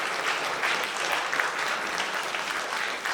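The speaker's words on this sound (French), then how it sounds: "Vraiment, applaudissez-les parce qu'ils le méritent." A festival audience applauds its volunteers with steady, dense clapping that carries on evenly throughout, with no voices over it.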